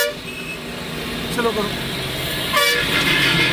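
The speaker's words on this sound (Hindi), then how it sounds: "जिस तरह से बस वाले हॉर्न मारते हैं साइड मांगने के लिए, लाउडली होता है इनका हॉर्न" A horn toots briefly twice on a road during a driving lesson, short loud honks over engine and road noise, with an instructor speaking throughout.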